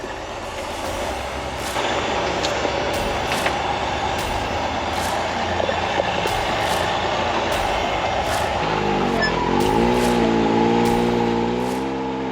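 A rock crawler with rear steer climbs a boulder field, its engine droning loud and steady, then bogging into a lower, laboring pitch near the end. Sharp metallic clicks and knocks from the rocks come through.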